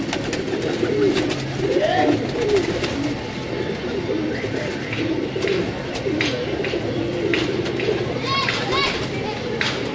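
Dub breed pigeons coo in soft repeated rising calls amid a busy loft, while people talk throughout and children's voices carry in the background.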